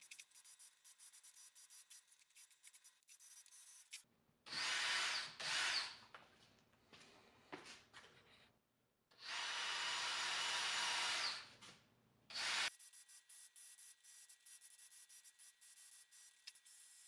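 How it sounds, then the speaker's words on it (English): Sandpaper is rubbed by hand in long, even strokes across a hazy car headlight, making two loud rasping bursts with quieter scratching between them. "Make sure you use 2 hands and long, even strokes when you're sanding."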